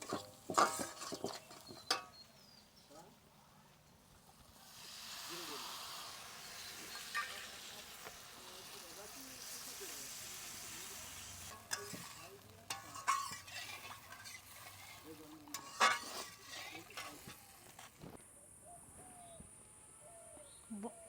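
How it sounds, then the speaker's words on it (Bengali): Water poured into a pan of fried spice masala for a Bengali katla fish curry, giving a steady hiss and bubbling with stirring scrapes, birds cooing faintly in the background. "এবার আমি জল দিয়ে দেবো।"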